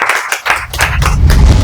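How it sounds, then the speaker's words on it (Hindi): Applause from an office team quiz audience rewarding a correct answer, a burst of clapping that swells and runs steadily through the short moment, fairly loud and close. "जोरदार तालियां सही जवाब के लिए।"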